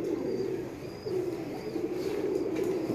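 Close, continuous low cooing from Ustad Mian Nazir's pigeons at a Lahore loft swells in overlapping phrases, with a brief high chirp now and then and no talking.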